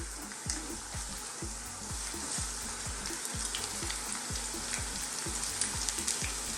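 Onion strips and garlic frying in a pan, a continuous bright sizzle with a rapid regular ticking of stirring or utensil taps running underneath.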